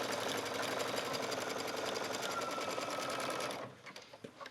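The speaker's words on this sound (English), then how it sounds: "So I'm going to the machine, change it to a zigzag stitch, and just go back and forth" A sewing machine runs a zigzag stitch back and forth over elastic on a knit skirt waistband, a steady fast mechanical whir that stops near the end, followed by a few soft clicks.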